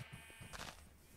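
A single faint, short sheep bleat from the Minecraft video game, thin and buzzy, over a quiet hum of game background.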